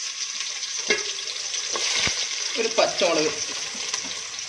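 Cashews, raisins, curry leaves and sliced onion sizzle and crackle in hot oil for beef dum biryani, with stirring and scraping in the pan, close and steady, while a voice speaks briefly over it.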